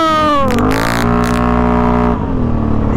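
A tuned Can-Am Outlander ATV engine revs hard nearby, its pitch climbing, holding high and then easing off in a loud, continuous whine over about three seconds.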